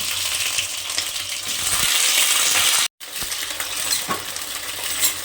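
Broad beans (shim) fry in a pan with a loud, steady broadband sizzle and occasional stirring clinks, broken by a brief silent gap midway; no one talks.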